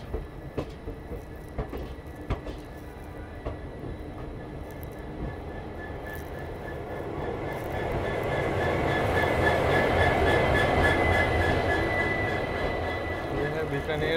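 Jammu Jodhpur express train pulling into Bikaner station, a continuous rumble of rolling wheels and rail clatter that grows louder and fuller toward the end, with a few sharp clanks early on and brief talk near the start.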